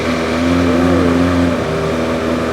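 A car engine revs with a newly fitted aftermarket muffler, idling high while cold, a steady loud exhaust drone with one rising and falling rev swell, no voices.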